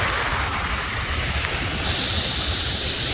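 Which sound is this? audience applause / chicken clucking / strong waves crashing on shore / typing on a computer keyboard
strong waves crashing on shore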